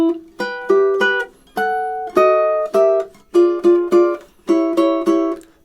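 Ukulele playing measures 21 and 22 of the Nutcracker March, a quick run of bright plucked chords in short rhythmic groups, some notes held longer, close and clean with no voices.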